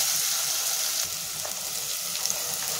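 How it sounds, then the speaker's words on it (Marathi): Onions frying in a pan for mixed vegetable soup, a steady close sizzle with faint stirring scrapes running unbroken through the whole stretch. "इथे आपल्याला कांद्याचा कच्चापणा आहे तो जाण्यापर्यंतच आपल्याला ते फ्राय करायचे"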